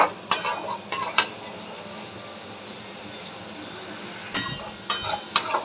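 Spice paste being sautéed for Bengali prawn malaikari, with a spoon scraping and stirring the pan in a few short bursts near the start and again near the end, over a steady low sizzle.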